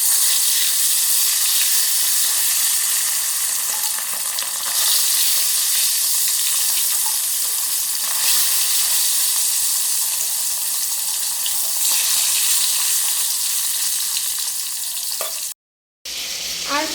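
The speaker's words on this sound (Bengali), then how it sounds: "এখন এই যে তেল বসিয়েছি, আর ভোলা মাছটা আজকে করব সর্ষে বাটা দিয়ে।" Bhola fish fried in hot oil with mustard paste, a steady bright sizzle and crackle that runs continuously for about fifteen seconds, then cuts out briefly before resuming, with no talking.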